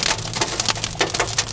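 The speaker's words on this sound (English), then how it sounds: "That is hail." Hailstones from a brief May storm patter and crackle densely on a hard surface, a steady close rattle with no voices.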